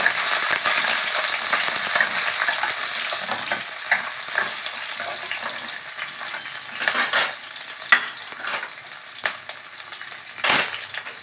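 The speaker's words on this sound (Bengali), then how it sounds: "এবার আমি গাজরগুলো এর মধ্যে দিয়ে দিলাম কিশমিশগুলোও দিয়ে দিলাম আর এটা আমি ভালো করে ভেজে নেব" Oil sizzles steadily in a pan while a spatula scrapes and stirs carrots and raisins, with a few sharper clinks of metal against the pan.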